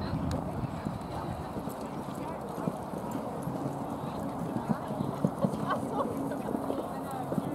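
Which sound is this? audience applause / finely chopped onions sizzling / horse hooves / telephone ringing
horse hooves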